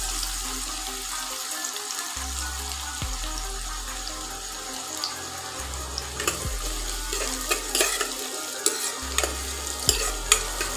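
Kabuli chana ghugni sizzles as it fries in a pan while being stirred, with steady frying hiss and rhythmic scraping and knocking of the spoon, close and fairly loud.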